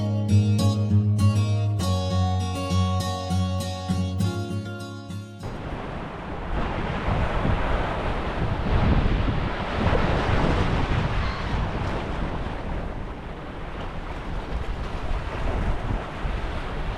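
After a few seconds of music fade out, strong wind buffets the microphone at South Lefroy Bay beach, a constant low roar with surging gusts and rolling surf underneath, loud and close, with no talking.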